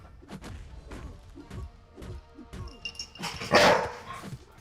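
Dog barks several times close by in an indoor home setting, short sharp yaps scattered through the clip with soft thumps, ending in a louder burst.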